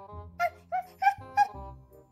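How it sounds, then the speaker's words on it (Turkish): A dog gives four short, high yipping barks in an even rhythm, with a low rumble underneath. "Neden havlıyor bu köpek?"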